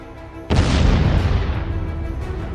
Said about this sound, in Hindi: 150 किलो वॉरहेड के साथ इसका धमाका किसी भी टारगेट को तबाह कर सकता है।